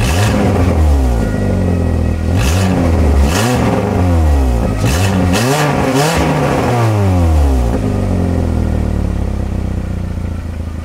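A small two-door car's 60-horsepower engine revs hard again and again in loud, rising and falling bursts of throaty growl, close by with no talking.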